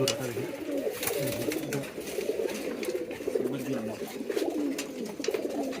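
Giribaz pigeons cooing in a loft, a continuous overlapping chorus of low throaty coos from several birds close by, with faint background movement and soft talk.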